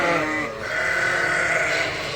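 Sheep bleating in a barn full of ewes and lambs, one loud, close, drawn-out bleat with overlapping calls from the flock behind it.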